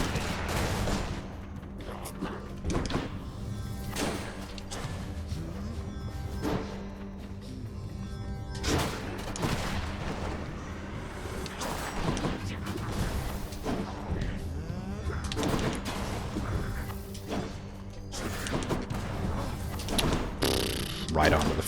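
Bomb blasts and combat impacts in the action roguelike Hades, a dense run of sharp broadband bursts repeating every second or two over a constant churn of game music and effects, with a voice talking throughout.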